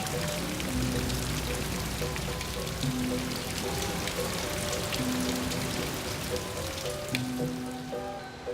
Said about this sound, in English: today's rainwater dripping into pools